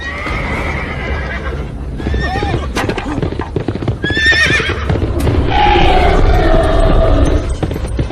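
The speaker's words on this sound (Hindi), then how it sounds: "घोड़े को पकड़ो।" Horses in an animated Ramayana battle scene whinny and neigh repeatedly over steady clip-clopping hooves, loud and close, with a busy background of other effects.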